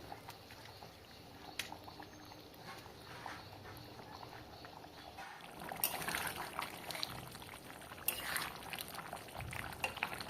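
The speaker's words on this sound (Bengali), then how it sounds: "ঝোল ফুটতেই আমি এবার মাছগুলো দিয়ে দেব। এক এক করে এবার মাছের পিসগুলো বেশ দিয়ে দিচ্ছি।" Pieces of boal fish go one by one into a boiling, spicy curry gravy: steady close bubbling and simmering with a few soft splashes and wet plops as pieces drop in.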